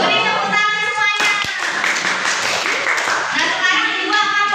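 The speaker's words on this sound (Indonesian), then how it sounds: "Beri tepuk tangan semuanya." A classroom of children clap together on command, a short burst of hand claps that starts abruptly and continues in a loose rhythm, with children's voices talking over it.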